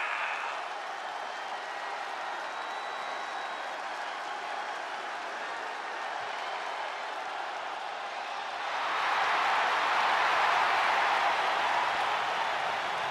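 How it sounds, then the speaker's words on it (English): A WWE 2K23 arena crowd gives an ovation, with a steady murmur of cheering that swells into louder sustained applause and clapping over the last few seconds. "Listen to this ovation."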